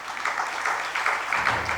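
Audience at a sermon clapping together, a continuous rattle of many hands in a hall, steady and moderately loud with slight swells.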